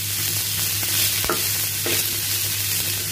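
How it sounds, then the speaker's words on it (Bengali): Onion, chili and carrot fry in a little oil with a constant close sizzle, while a few spatula knocks and scrapes against the pan come through clearly and no one speaks. "তো আমি এখানে পেঁয়াজ, মরিচ আর গাজরটাকে হালকা তেলের মধ্যে এই যে ভেজে নিচ্ছি।"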